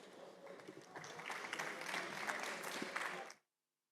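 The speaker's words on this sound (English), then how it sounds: "Warm applause." Warm applause from a conference audience at a startup innovation event, dense and steady for over three seconds before stopping abruptly, with no talking over it.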